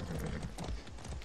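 Horse hooves clip-clop steadily in Far Cry 6, a dense, close run of hoofbeats over a low rumbling game background, with no talk.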